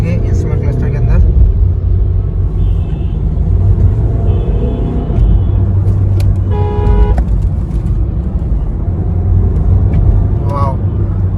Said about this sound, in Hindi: अभी हम गाड़ी की ट्रायल कर रहे हैं।